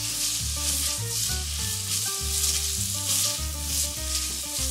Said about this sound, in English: So you want to cook your onions till they're slightly opaque, and then we're going to add our garlic.